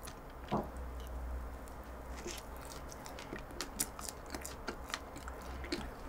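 Someone chews a walnut cream cheese donut with seeds in it, soft close mouth crunches and smacks scattered across the quiet background, with no talk.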